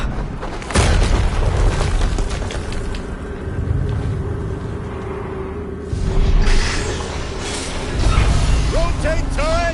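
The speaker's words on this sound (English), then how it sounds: "Another explosion." Explosions in Horizon Zero Dawn go off as deep, loud booms, one near the start and two more later, each followed by a rumbling tail, set against busy game sound.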